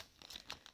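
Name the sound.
adhesive tape pulled from dispenser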